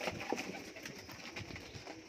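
Pigeons coo softly and repeatedly in a low, throaty rhythm, fairly faint against a quiet background, with no talking.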